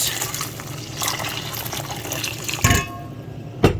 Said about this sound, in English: 2 cups of water, hot water